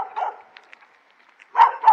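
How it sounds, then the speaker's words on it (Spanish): Small dog barking at a little plaza in a Peruvian seaside town, Buenos Aires in Trujillo, with a faint early bark followed by two loud, close barks near the end. "acá un perrito que me está ladrando"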